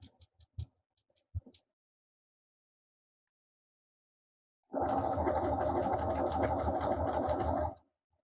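A sewing machine stitches a double fold hem in fabric, running in one steady, rapid burst of about three seconds after a few faint, scattered taps and near silence.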